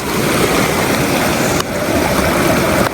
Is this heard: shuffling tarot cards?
no